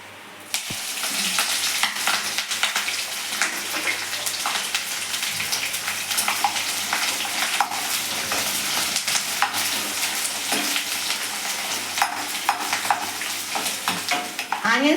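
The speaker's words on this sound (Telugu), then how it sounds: "ఆయిల్ వేడైంది కదా, ఇప్పుడు ఒక డ్రాప్ ఇంగు వేసుకుందాం. అది డ్రై అయిపోయాక 2 లవంగాలు, దాల్చిన చెక్క," Asafoetida, cloves, cinnamon, bay leaf and cardamom fry in hot oil for a goat head curry, a continuous crackling sizzle punctuated by frequent sharp spatula scrapes and taps, close and fairly loud with no talking.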